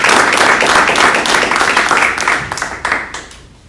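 Audience applause at a Guam Army National Guard battle handoff military ceremony, a steady wash of clapping that starts full and gradually thins and fades toward the end.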